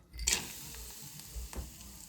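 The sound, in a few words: cashews and almonds frying in hot ghee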